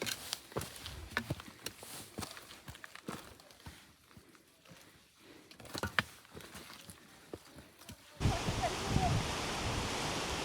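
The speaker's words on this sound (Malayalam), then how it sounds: "കാറ്റ് കണ്ടോ ഗൈസ്, കാറ്റ് കണ്ടോ? മാതിരി കാറ്റും മഞ്ഞുമാണ്." Strong wind and mist sweep across the rocky, slippery Agasthyarkoodam mountain trail in Kerala. Scuffing steps and knocks come first, then a loud, steady roar of wind rushes in and fills the last couple of seconds.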